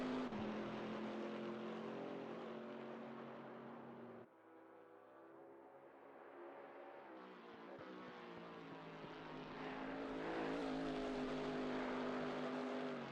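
A Chevrolet 6.2 litre LT1 naturally aspirated V8 from a Camaro SS, in a GT4 race car on track, roars loud and steady, dips briefly as the revs fall, then climbs back up through the gears.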